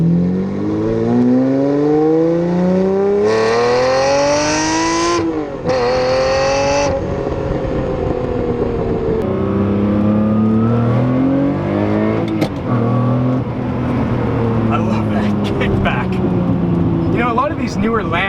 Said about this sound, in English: I just love how that V12, it like reverberates through your soul, the sound of it.